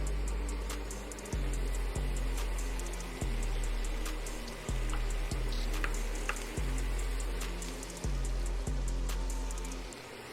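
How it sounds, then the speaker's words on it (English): Ground beef and chopped onions fry in a pan with a constant loud sizzle. Periodic low thumps and faint ticks sound over the frying, and no one speaks. "Now that the beef is cooking, I'm gonna just drop them chopped onions in there."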